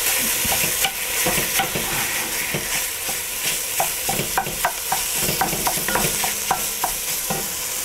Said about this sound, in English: So now I'm going to add my ground beef rather.